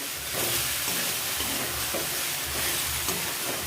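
Turmeric powder stir-fried in a hot pan for a Tamil brinjal gothsu chutney, giving a steady close sizzle and hiss with soft scraping stirs throughout.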